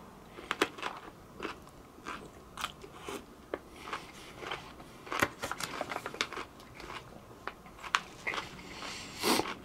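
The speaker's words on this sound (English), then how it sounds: "Another bite of Z pickle." A Warheads extreme sour pickle bitten and chewed up close, giving a run of sharp, wet crunches and crackles at uneven intervals, with no talking.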